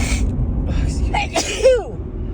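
A woman's sneeze, a sudden loud close burst with a voiced tail, preceded by short sharp inhales over a low steady background rumble.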